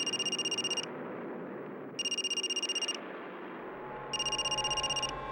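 A telephone rings in three separate bursts of rapid electronic trilling, evenly spaced with quiet pauses between them.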